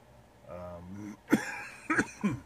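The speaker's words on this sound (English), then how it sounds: "Got a little bit of a cough." A faint groaning vocal sound followed by three short, sharp coughs close to the listener.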